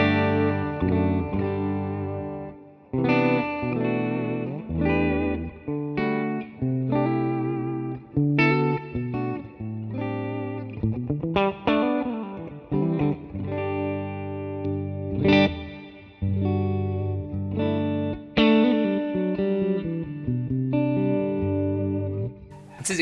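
An electric guitar played through Mesa Boogie amp captures in ToneX, running from clean to mean tones, with strummed chords and single-note phrases, driven and effects-laden, played alone without talk.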